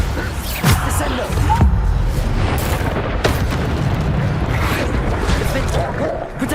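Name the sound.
Bombarda explosion spell from video game Hogwarts Legacy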